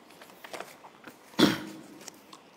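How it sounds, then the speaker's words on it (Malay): A single close cough from an adult man during a religious lecture, one short throaty burst amid quiet room sound. "hari ni jadi nak batuk sikit dah"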